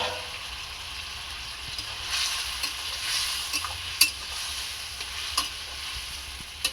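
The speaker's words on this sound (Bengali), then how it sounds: "কষা হয়ে যাওয়ার পর আমরা ম্যারিনেট করা মাংসটাকে কড়াতে দিয়ে দিচ্ছি।" Marinated chicken being fried and stirred in a kadai, a steady sizzle with occasional sharp clinks and scrapes of a spoon against the pan, close and unaccompanied by voices.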